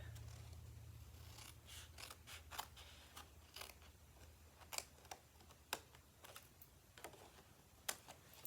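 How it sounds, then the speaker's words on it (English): Scissors snip the side flaps off a handmade soap gift box, a series of quiet, sharp cuts spaced irregularly over a low steady hum, close by and without speech. "I'm just going to snip off about half of them on each side"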